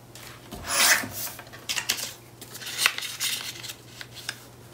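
Paper pieces for a handmade mini album being cut down to size, giving a close, dry rasping and scraping sound in short irregular bursts, loudest near the start, with no talking.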